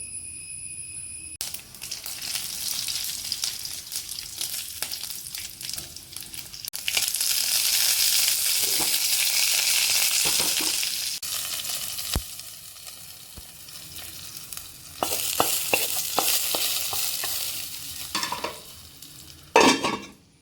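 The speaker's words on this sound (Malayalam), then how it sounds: "കുറച്ച് വെളിച്ചെണ്ണൻ്റെ അകത്ത് കടും ചുവന്ന മുളകും കറുവേപ്പിലയും കൂടി വറവിടണം." Dried red chillies and curry leaves tempered in hot coconut oil for an Onam ash gourd pachadi, bursts of close loud sizzling and spluttering between quieter stirring and scraping of a pan.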